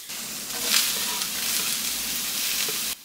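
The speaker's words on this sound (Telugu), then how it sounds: "స్పూన్ ఆయిల్ వేసుకుని దీనిలోకి ముందు ఉల్లిపాయ క్యారెట్ వేయించేసుకోవాలి" Onion and carrot frying in oil in a pan give off a steady, close crackling sizzle that holds evenly for about three seconds and then cuts off, with no voices.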